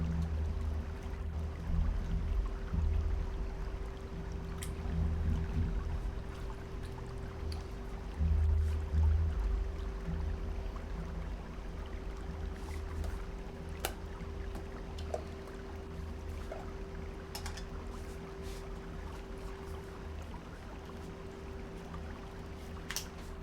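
Gold pan worked in the South Fork of the Yuba River during gold concentrate processing, giving a steady low wash of moving water with soft sloshes and swirls, close and continuous, with no talk.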